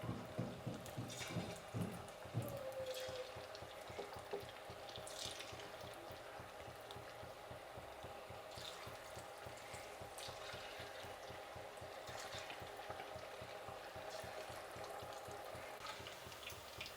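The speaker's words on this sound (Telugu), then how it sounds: "ఆయిల్ కాగుతానే మనం వేసుకునేసేదే కబాబు" Aloo kebabs dropped one by one into hot oil for deep frying give a continuous faint sizzle and bubbling, with a few soft clinks and stirring noises near the start.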